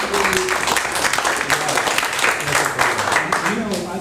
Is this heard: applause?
yes